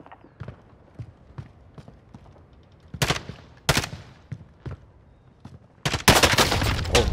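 Gunfire in a battle-royale video game: scattered single shots and short bursts, some distant and faint, others loud and close, with a sustained rapid volley at the end.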